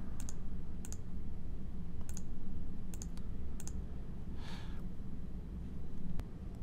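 Computer mouse clicks in machine vision software, a few sharp, quiet single and double clicks spaced irregularly over a steady low hum, with no talking.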